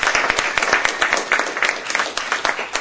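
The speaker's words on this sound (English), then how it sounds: "Please give them a big round of applause." An audience at a San Francisco ASA chapter meeting claps steadily, a dense, fairly loud wash of many hands lasting throughout without pause.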